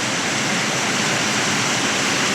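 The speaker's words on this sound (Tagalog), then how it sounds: "Wala nang tigil, tuloy-tuloy ang ulan" Dense, steady hiss of heavy rain pouring without pause, heard from a house balcony, a loud unbroken wash of noise filling the whole stretch.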